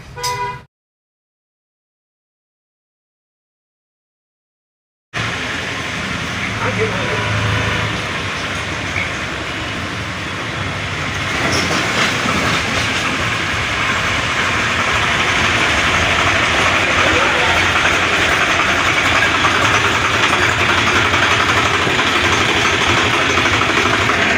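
A Swaraj 735 FE tractor engine runs after a clutch repair: a brief sound, a few seconds of silence, then a loud, continuous diesel drone that holds steady and grows slightly stronger.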